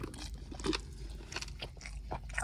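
Crunchy biting and chewing on a soft-boiled beef bone from a lightly spiced home-cooked village beef curry, with close, quiet, irregular crunches and mouth sounds and no talk.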